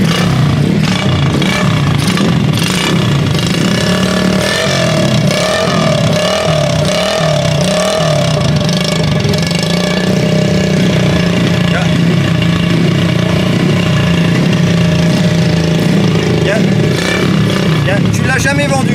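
Miniature 1993 Ducati 900 Monster motorcycle engine started up and left running, a steady buzzing idle with some revving throughout, with people talking loudly over it.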